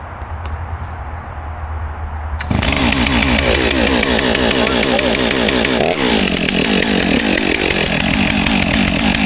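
A Stihl chainsaw, newly acquired and on its first use, fires up after a quieter idling lead-in and then runs loud and steady, its high buzzing engine note wavering as it warms up, with no talking.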